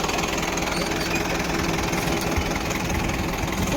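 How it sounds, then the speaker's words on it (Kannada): A Mahindra Arjun Power King tractor engine runs at a steady, loud, close chugging drone, continuous and unchanging throughout. "ಪವರ್ ಕಿಂಗ್ ಅರ್ಜುನ್ ಮಹೇಂದ್ರ ಗಾಡಿ ರೀ"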